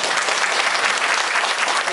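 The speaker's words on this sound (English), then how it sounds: "applause." An audience at a 2010 senior talent competition claps after a sung performance of The Last Rose of Summer: dense, even applause lasting a couple of seconds, close and loud.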